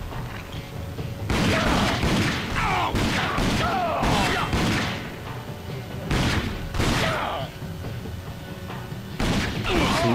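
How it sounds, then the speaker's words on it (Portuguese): Gunfire in the video game RAGE, several loud bursts of shots and booms in bursts across the stretch, with short quieter gaps between volleys. "Você deu um tiro nos olhos do cara, moleque."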